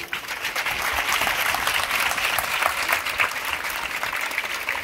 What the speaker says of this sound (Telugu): మనం గట్టిగా చప్పట్లు కొట్టాలి